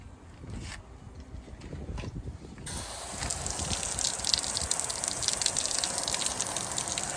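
Spray of water rinsing grime off old surplus tires, a steady hiss and gush that starts softly and then grows brighter and louder as the stream hits harder, continuing without pause.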